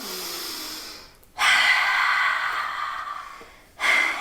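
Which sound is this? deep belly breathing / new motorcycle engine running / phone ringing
deep belly breathing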